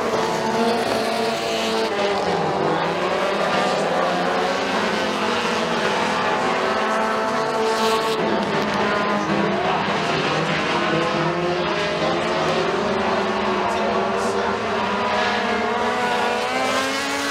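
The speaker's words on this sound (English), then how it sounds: "Hunter Flock looks like to be one of the fastest cars on the track" Mini stock race cars roar around the McKean County Raceway oval, a dense, continuous engine drone with shifting pitch as several cars pass, loud and steady throughout with no talk.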